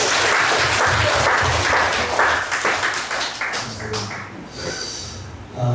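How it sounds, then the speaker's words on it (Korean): A church congregation applauds during a Sunday worship service, steady dense clapping from many hands that thins out near the end, with voices mixed in at the close. "박수 한번 주세요"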